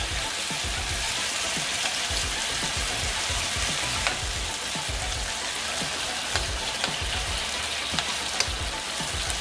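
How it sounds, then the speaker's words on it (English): Diced Irish potato stir-frying in a hot pan for a potato egg omelet, a continuous dense sizzle with occasional sharp pops and spatula scrapes, close and steady throughout. "Alright, so you're what, stir frying the potato? Yeah, this will be stir fried."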